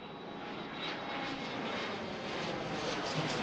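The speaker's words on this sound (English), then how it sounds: "That's JetBlue 1354 and A320 headed to Boston." A JetBlue Airbus A320 jet departs the runway at Washington Reagan National Airport, a broad, steady engine roar that swells slightly as it goes, loud and continuous with a faint whine above.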